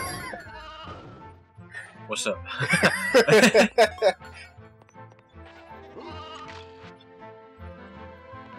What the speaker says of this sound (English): There's a sheep over there.